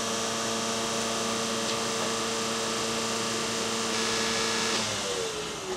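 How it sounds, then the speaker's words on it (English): Electric condenser cooling fan on a Honda Accord running steadily, a continuous even whir with tonal hum lines, close and fairly loud throughout with no talk. "the condenser fan, which you hear running, didn't sound too good either"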